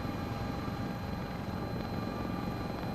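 A Sikorsky S-76C++ helicopter in Microsoft Flight Simulator 2024 drones steadily, its turbine whine and rotor rumble holding a constant, even level throughout with no talking.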